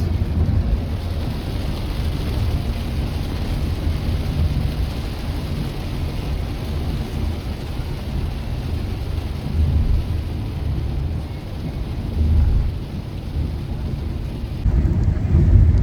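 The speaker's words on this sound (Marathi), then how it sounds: "भयानक पाऊस सुरू आहे बाहेर." Steady heavy rain with thunder drums continuously on a car with a low, rumbling wash, a downpour heard from inside the vehicle, with occasional deeper swells.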